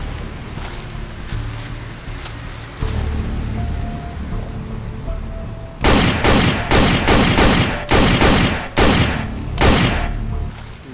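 Gunfire in a dramatic web-series scene: a low tense ambience first, then a rapid volley of loud, sharp shots in quick irregular bursts, like an automatic weapon, over the last five seconds.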